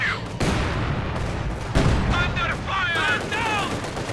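Gunfire in a Company of Heroes 2 match as a T-34 tank fires on infantry, with repeated loud bursts and booms layered over a commentator's voice.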